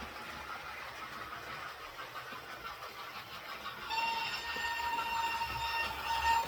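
A Hornby model railway locomotive, King George I, hums and rattles along its track, a steady mechanical whir that grows a little louder partway through, joined by faint high whines.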